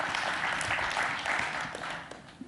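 A conference audience at a morning session claps together in a brief, dense burst of applause that holds steady and then eases slightly at the end.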